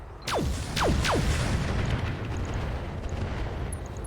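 Long Tom artillery fires in the RogueTech mech game: three quick descending whooshing launches, then a heavy rolling rumble that slowly fades.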